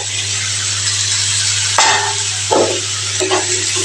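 Jackfruit curry with fried potatoes is stir-fried in a pan, a steady loud sizzle running throughout with a few sharp metallic scrapes and clinks of the spatula against the pan, and no talk.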